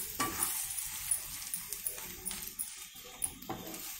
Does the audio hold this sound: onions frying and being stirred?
yes